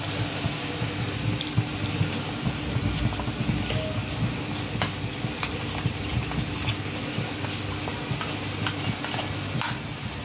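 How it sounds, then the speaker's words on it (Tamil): Cornflour slurry stirred and mixed with water in a pan while cauliflower cooks, a steady close scraping and swishing with a soft sizzle underneath, continuous with no talk. "போட்டுட்டு கொஞ்சம் தண்ணி விட்டு கலக்கிக்கலாம்."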